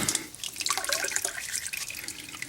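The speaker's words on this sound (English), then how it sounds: "got a big slug of oil came out of here" Warm motor oil pours from the drain hole of a 2010 Toyota Highlander oil pan into a catch pan below, a steady close splashing gush with small sloshes and drips and no talk.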